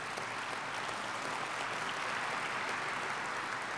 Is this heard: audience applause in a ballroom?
yes